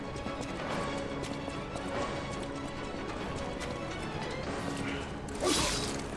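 In the video game Lies of P, a donkey's hooves clip-clop in a steady, fairly quiet walking rhythm over a low background ambience, with a brief brighter scrape or rustle near the end.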